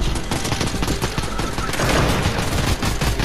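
Rapid, continuous Fortnite gunfire, loud and close, a dense burst of automatic shots with no pause and no talking.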